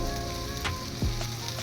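Oil sizzles steadily in a pan while home-made chicken curry cooks, a continuous close hiss with a brief stir or scrape partway through; no one speaks.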